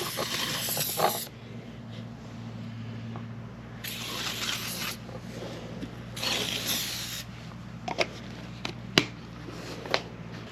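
Several bursts of lanolin lubricant aerosol spray hiss on a farm, each lasting about a second, separated by pauses, with a low steady hum and a few small clicks in the background.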